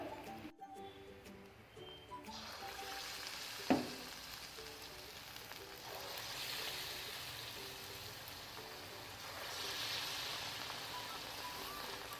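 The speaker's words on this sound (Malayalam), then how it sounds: "ഇതുപോലെ ബാക്കിയെല്ലാം തന്നെ നമുക്ക് ചുട്ടെടുക്കാം" Luqaimat, small Arabic sweet dough balls, deep-fry in oil with a soft, steady, rain-like bubbling sizzle that swells gently over time, faint and close, with one sharp clink of a utensil.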